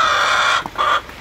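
Native hens in a backyard coop let out a loud, close, drawn-out cluck followed by a shorter second call.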